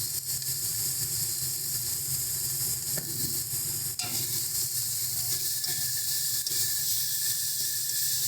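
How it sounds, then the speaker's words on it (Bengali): Masala spices frying steadily in hot oil for a catla fish kalia, a continuous close sizzle and hiss with a brief clatter of stirring partway through. "সব কিছু দিয়ে ভালো করে মশলাটাকে কষিয়ে নেব যতক্ষণ না মশলাটা থেকে তেল ছাড়ছে।"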